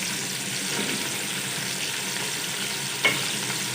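Beef pulao base with green chillies and chopped tomatoes frying in a pot, a steady soft sizzle with a brief stirring clink near the end, no voices.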